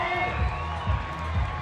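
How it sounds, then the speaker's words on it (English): A crowd cheering wildly at the IFSC Climbing World Cup bouldering finals in Vail, 2017: a steady wash of whoops and shouts from a distant audience, with a voice talking over it. "And look at that crowd. They're going wild."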